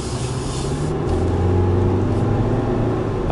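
A 2015 Volkswagen Passat with a 1.8 turbo 16V 170 hp engine accelerates, producing a loud, steady engine roar with road noise that swells slightly midway.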